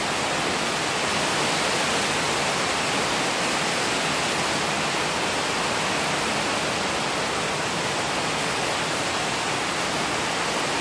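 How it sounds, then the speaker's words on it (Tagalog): Heavy rain pours down in a dense, unbroken hiss, loud and constant, with no voices over it. "malakas na naman yung ulan"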